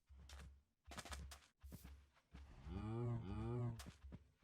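Cows mooing inside a Minecraft-style video game, two drawn-out low moos back to back near the end, following bursts of game sounds and movement.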